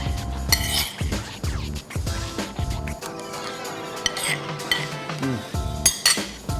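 Metal cutlery scrapes and clinks against a plate while eating rice with egg, gravy and stingray fish, with repeated close chinks and taps in an uneven rhythm and no talking.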